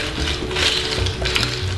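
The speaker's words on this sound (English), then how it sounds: "stir it up, mix it up, just like this." Ice being stirred in a coconut margarita, a close, busy rattle and clink of cubes against the glass, steady and loud with no voice over it.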